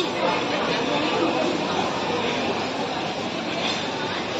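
A Singapore MRT train rumbles past up close near IMM mall, a loud steady roar of wheels and carriages filling the whole stretch, with faint chatter underneath.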